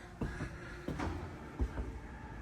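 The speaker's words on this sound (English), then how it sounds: "a nice big sliding door for privacy" A large interior sliding privacy door in a 2025 Jayco Jay Feather 27BH travel trailer, moved by hand in close, quiet bumps and rolling thuds, about three soft knocks in a couple of seconds.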